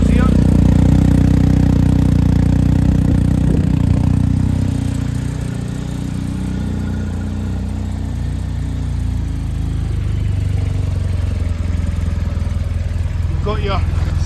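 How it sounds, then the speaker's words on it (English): A 2021 BMW R1250GS motorcycle idling as it warms up, a loud, steady, close low engine drone that settles slightly lower partway through and continues unbroken. "Now I'll just let the bike warm up for now."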